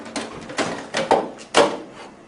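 A plastic printer side panel is pried off at its notches: several sharp cracking snaps and clicks come close together in a short burst, fairly loud and close, with no talk over them.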